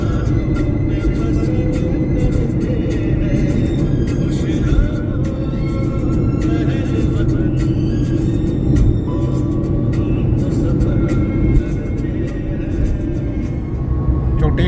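Congested highway traffic stuck on a stretch under six-lane widening, heard as a continuous rumble of cars, buses and trucks with engine drone and occasional air-brake hiss, steady and fairly loud.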